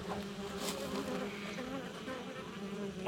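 Honey bees buzz steadily and close at a hive entrance fitted with a hive gate, one forager returning loaded with pollen. The droning hum of several insects goes on throughout, with no talking.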